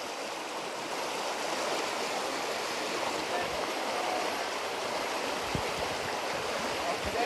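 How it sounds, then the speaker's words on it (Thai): Continuous rushing water, loud and close, a steady broadband roar like a waterfall pouring out of a cave nearby, in Vang Vieng, Laos. "น่าจะเป็นน้ำตกที่มันไหลออกมาจากถ้าหรือเปล่า"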